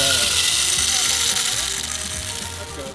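A coffee grinder's grind setting is turned, giving a loud, close ratcheting clatter of gears and clicks that continues steadily for a few seconds.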